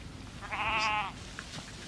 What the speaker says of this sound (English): The Wicklow Cheviot is a medium-wooled sheep, thriving on moderately bleak terrain.